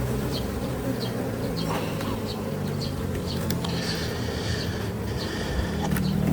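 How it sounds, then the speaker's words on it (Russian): Honeybees buzzing thickly on hive frames during a hive inspection, a constant nearby hum with individual bees zipping past the microphone now and then. "Так, опять пчелы заняли плечики."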